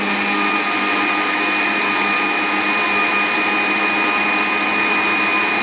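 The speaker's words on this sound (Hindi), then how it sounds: "ये फ्रेश क्रीम, इसको भी डालकर मज़ीद 1 मिनट के लिए हम ग्राइंड कर लेंगे।" An electric grinder runs steadily, blending a mango milkshake with fresh cream added, a loud continuous motor whir that holds unchanged from start to finish with no talking.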